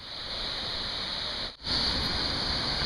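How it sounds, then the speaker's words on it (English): A waterfall somewhere beyond a marsh at Humpy Cove on Orca Island produces a steady, soft, hissing wash with a brief dip partway through. A high electronic-sounding tone runs underneath. "I can hear a waterfall somewhere in the distance"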